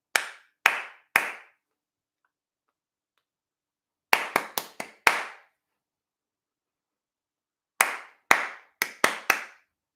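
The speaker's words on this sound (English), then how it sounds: "Don't clap this one back" Crisp, close hand claps in a sing-along rhythm: a group of three, then two quick groups of five separated by silent pauses, with no other sound.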